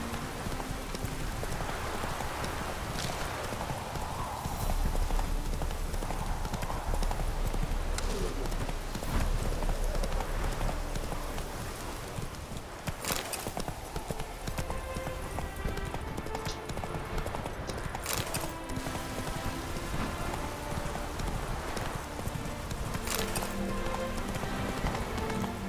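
Horse hooves clip-clop in a steady, continuous rhythm throughout, sitting within a dense bed of music at moderate loudness.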